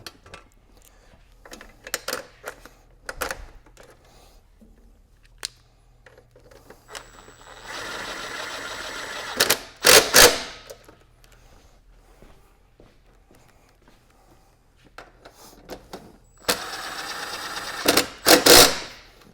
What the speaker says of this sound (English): slide the rack down, toss the bolts in